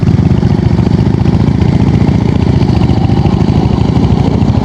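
A Royal Enfield Classic 350 motorcycle idles up close at a highway toll gate, its steady single-cylinder thump running evenly and loudly throughout with no voices.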